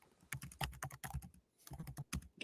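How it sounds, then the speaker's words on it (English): Rapid keystrokes on a computer keyboard come in two close bursts of clicky typing with a short pause between, fairly near and crisp, with no talking. "Let me hear Mark typing away."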